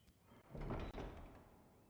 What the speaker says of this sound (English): Big old door for a little girl there, like.